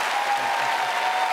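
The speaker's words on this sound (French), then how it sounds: "Vous pouvez retourner à votre place sous un tonnerre d'applaudissements d'une foule en délire." An audience at a comedic magic show breaks into applause as a volunteer returns to their seat, a short burst of loud, dense clapping close at hand.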